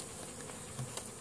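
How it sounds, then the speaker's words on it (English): Swarming bees in a pasture near a 4x4, giving a steady, faint buzzing drone that holds evenly throughout with a few brief louder passes close by. "And the bees are getting a little bit closer. A little bit more aggressive."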